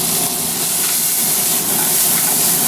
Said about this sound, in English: The liquid from the tomatoes will deglaze the pan a little bit.